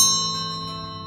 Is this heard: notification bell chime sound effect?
yes